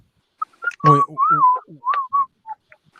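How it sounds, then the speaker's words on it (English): Several short, tuneful whistles rise and fall in quick succession, close and clear, with a brief burst of other sound partway through. "I was fucking over here whistling at my little girl"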